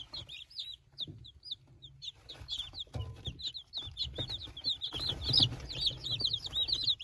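Hens and roosters cluck and squawk in short, repeated calls while being handled, with soft rustling and handling noise beneath and no talking.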